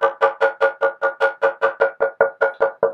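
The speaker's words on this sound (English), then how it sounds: "This ash body is even louder when you're knocking." Knuckles rap steadily on a solid ash electric guitar body, about fifteen evenly spaced, resonant knocks in three seconds, close and fairly loud with no voices.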